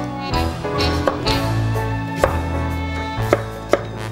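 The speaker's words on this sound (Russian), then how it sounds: "Тыкву для начинки хорошо бы нарезать тоненькими ломтиками" A knife chops through firm pumpkin on a board, slicing thin pieces in a series of sharp uneven strikes over a low background hum, close and fairly clear.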